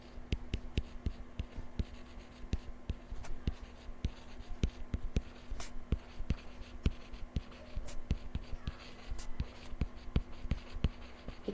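A pen writes by hand on paper while working through algebra equations. Its quick, dry scratches and taps form an uneven, continuous stream, close and clear, with no talking.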